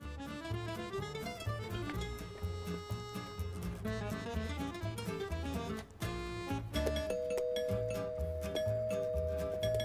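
A doorbell chime rings over and over in sustained tonal bursts, steady and fairly loud throughout, with no talking.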